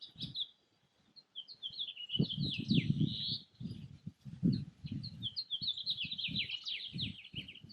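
A lesser goldfinch and other birds in a desert backyard give high, twittering chirps and calls that come and go, with a rhythmic low thumping beneath them.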